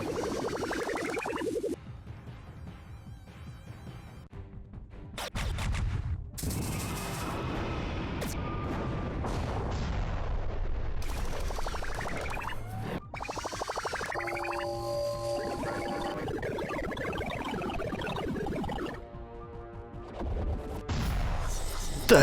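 Sci-fi weapon fire and explosions from the space strategy game Halcyon 6, including the Doom Cannon, come as sweeping laser zaps, booming blasts and rising electronic tones in a dense, loud battle sequence.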